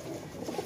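Pigeon cooing, a soft low murmuring coo from a Kasoori pigeon kept in a loft during humid weather, brief and moderately close with no talk over it.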